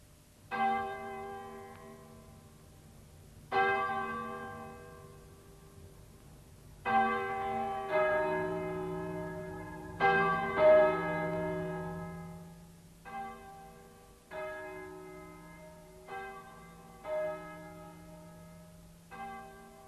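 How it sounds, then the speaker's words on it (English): Church bells toll in uneven strikes, each ringing out and fading, with overlapping tones building into a cluster of peals later on. "I wonder why the church bells are ringing."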